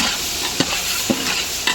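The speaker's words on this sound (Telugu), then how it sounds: "ఈ విధంగా అయితే తిప్పుతూ ఉండాలి." Tomatoes fry in a pan for hotel-style sambar, a steady bright sizzle under a spoon stirring with soft periodic scrapes and knocks, close up with no voices.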